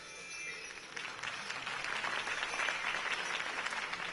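Crowd applause after a campaign speech in a video game, a dense wash of clapping that swells after the first second and holds steady, with no talk.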